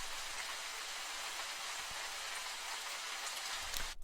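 Steady rain hisses continuously, broad and even, with a few soft drops and a brief louder rustle near the end.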